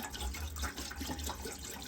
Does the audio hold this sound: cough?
no